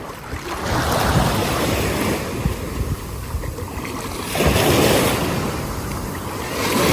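Ocean waves wash onto the shore at First Landing State Park, a broad rushing surge that swells twice and is heavily buffeted by gusting wind noise against the microphone.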